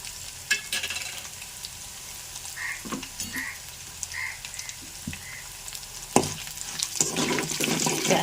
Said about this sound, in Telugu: ఇప్పుడు జీలకర్ర వేస్తున్నానండి